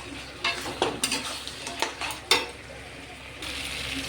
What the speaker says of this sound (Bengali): এবার আমি এতে ভেজে রাখা আলুগুলোও দিয়ে দিচ্ছি